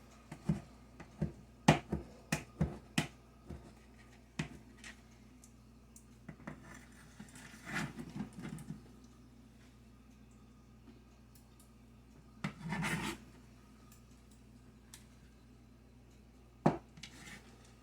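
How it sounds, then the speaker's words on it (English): A knife slices and halves ingredients for tuna salad on a cutting board, scattered sharp clicks and taps of the blade with occasional clatters of dishes, faint and irregular in a quiet kitchen. "I'm going to slice them up, cut them in half, and then slice that into slices like that."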